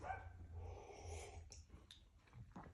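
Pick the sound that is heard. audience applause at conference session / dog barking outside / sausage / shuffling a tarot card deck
dog barking outside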